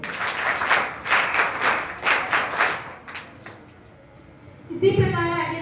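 Applause rises at a school award ceremony honouring Class 12 board exam toppers, with rhythmic group clapping in pulsing waves that fades out, followed by a voice speaking over a microphone.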